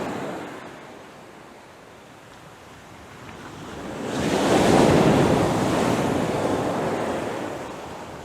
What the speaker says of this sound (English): some of these waves are absolutely massive, but then when they break, the energy just dissipates so fast